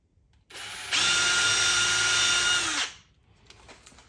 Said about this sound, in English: pre-drill a small hole